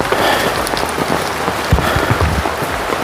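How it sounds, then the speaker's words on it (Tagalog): Heavy rain from a storm pours down steadily on a mountain trail, a dense close patter with a few heavier thumps and gusts. "talagang inabutan kami ng ulan"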